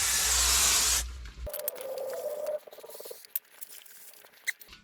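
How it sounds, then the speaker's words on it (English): Aerosol brake cleaner blasted onto a brake caliper surface in one loud, steady hissing burst of about a second and a half, followed by quieter handling noises. "go ahead and shoot it with a little good old brake clean, and clean the surface up"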